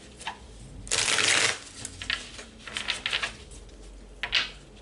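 Tarot cards are shuffled close by in several quick riffling bursts, the longest near the start, followed by lighter card slaps and taps.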